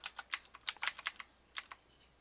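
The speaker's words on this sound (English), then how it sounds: "I'm gonna just like press some keys and see if the keyboard is not like giga noisy." Keys pressed one after another on a computer keyboard, a quick uneven run of crisp clicks heard close and alone, with a short pause before a final pair.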